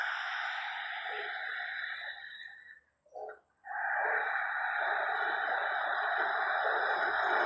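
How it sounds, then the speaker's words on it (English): Ujjayi breathing during a gentle yoga class: a long, steady throaty breath, a brief pause and a quick catch, then another long sustained breath, close and clear. "Listen to the sound of your breath."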